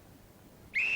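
A sharp, loud whistle blast starts a strongman event at the 1996 World's Strongest Man final in Port Louis, Mauritius, cutting in suddenly after a quiet, tense pause.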